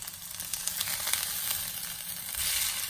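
Octopus frying in a hot pan until crisp on the outside, a steady, close hiss and crackle of sizzling oil with no talk.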